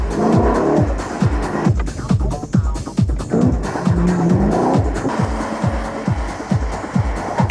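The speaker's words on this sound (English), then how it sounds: "The sheer engine power of the 5-liter V8 makes it tricky to control." A Hartge 5.5 with a 5-liter V8, based on a BMW, driven hard on a test track: a loud, close engine roar rising and falling through rapid gear changes, with tire squeal and skidding.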